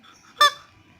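A chicken-shaped rubber squeaky chew toy for dogs gives a single short, bright honking squeak, close and alone in a quiet room.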